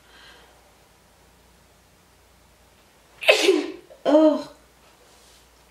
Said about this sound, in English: that was a really big sneeze